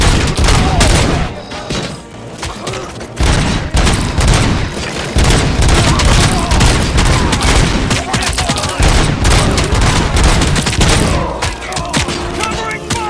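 Dense covering fire in RoboCop: Rogue City crackles nonstop, with overlapping gunshots, heavy booms and thuds forming a loud, chaotic barrage, and shouted voices buried in the din.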